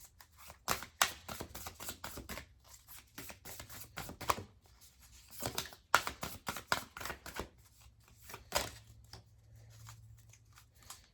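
Soft, uneven riffling and slapping of a new, stiff tarot deck being shuffled by hand, in short bursts with pauses, close and quiet.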